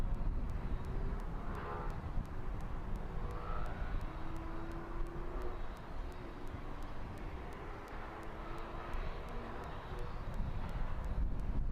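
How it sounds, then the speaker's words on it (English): Aircraft doing a touch and go at East Midlands Airport, a distant broadband engine roar rising and fading under steady wind rumble, with no voices. "Aircraft making another touch and go, it looks like."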